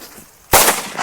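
One loud, sharp blast from a large Diwali firecracker breaks a quiet pause and rings out briefly before fading.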